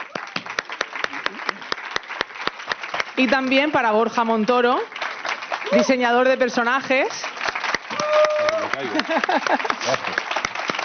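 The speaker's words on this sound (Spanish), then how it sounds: "pido un fuerte aplauso para Juan Pando, que es periodista y escritor y el entrevistador de hoy. Un fuerte aplauso." Audience clapping at a character-design interview event runs throughout as a steady patter of sharp claps, while someone speaks over it in Spanish.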